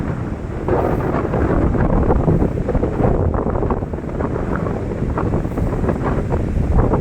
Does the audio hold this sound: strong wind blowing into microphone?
yes